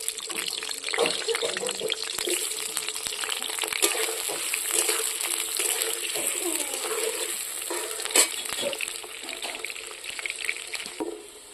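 Potatoes frying in oil in a hot kadai, a steady crackling sizzle with faint stirring clatter running throughout at close range.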